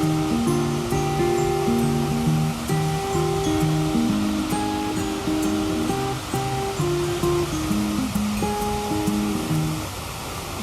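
A waterfall beside a secret lagoon roars in a steady, dense rush of water throughout, with a melodic line of music playing over it.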